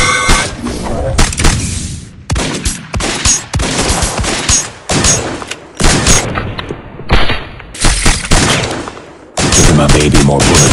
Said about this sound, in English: Heads up, guys. Grenade.